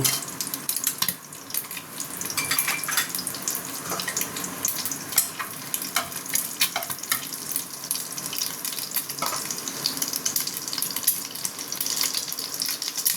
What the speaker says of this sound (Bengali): এবার আমি গরম মশলার ফোড়নটা দেব।